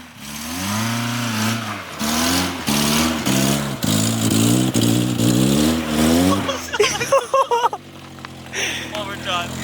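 A Mazda Miata's engine revs hard and rises in pitch while the car drives and tries to drift on a frozen lake. The engine is loud and close, then sputters and surges near the end. Excited voices shout over it.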